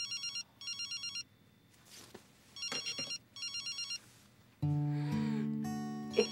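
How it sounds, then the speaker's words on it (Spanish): A telephone rings in repeated electronic trilling bursts, loud and close with no talk over it, ending in a sustained beeping tone. "¡Rin! Sonó el teléfono."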